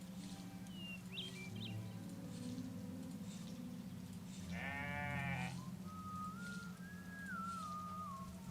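Goats bleat on a farm in the video game The Stillness of the Wind: one clear bleat rises midway over a steady ambient drone, with faint whistle-like tones drifting in before and after.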